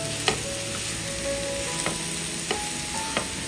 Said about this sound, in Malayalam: മസാലയൊക്കെ പുരട്ടി വെച്ച കോവയ്ക്ക കഷ്ണങ്ങൾ ഇതിലേക്ക് അങ്ങ് ചേർത്ത് കൊടുക്കാം. ഒന്ന് ഇളക്കി കൊടുക്കാം.